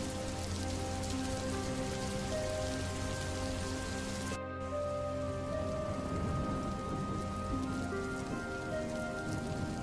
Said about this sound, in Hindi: इतनी ठंड में यह जोरदार बारिश भी होने लगी।